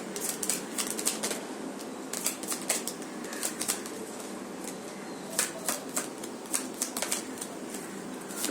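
Tarot cards being shuffled by hand, a close, quiet, continuous riffling and flapping with rapid irregular clicks and no talking.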